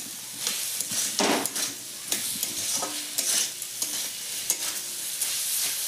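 Potatoes and mushrooms stirred and sautéed in a pan, a steady close sizzle broken by repeated scraping and stirring scrapes for several seconds, with no talking.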